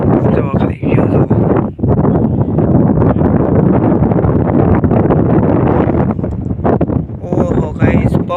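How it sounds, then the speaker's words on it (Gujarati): Strong wind buffets an outdoor setting, a loud continuous roar with gusty microphone rumble, while people talk over it throughout. "પવન બહુ છે."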